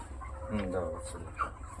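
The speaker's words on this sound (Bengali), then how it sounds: "আমাদের এখানে মুরগি এখন ওয়েট করা হচ্ছে একে পা বেঁধে উল্টে দেওয়া হয়েছে" A live chicken, legs tied and held upside down while being weighed, gives a few soft clucks close by, partly under low background noise and voices.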